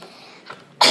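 Sudden loud sneeze bursting out at the end after a brief quiet intake of breath, close to the listener.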